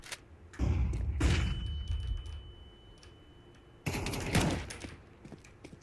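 A flashbang grenade going off in a video game: a loud burst followed by a thin, steady high ringing tone, then a second loud blast, with keyboard clatter in the background.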